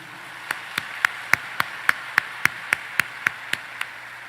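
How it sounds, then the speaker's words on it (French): A steady run of about a dozen sharp, evenly spaced hand claps, each clear and separate, keeps a brisk regular beat as a show of solidarity applause, with no voices. "On encourage les monde de bien yo avec un gros applaudissement solidarité."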